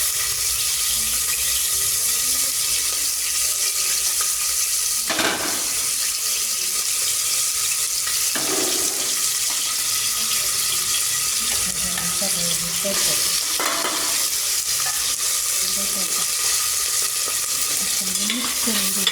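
Green chili and tomato fry in a pan with a loud, constant sizzle, while a utensil stirs and scrapes through the mix every few seconds, close up and without talk.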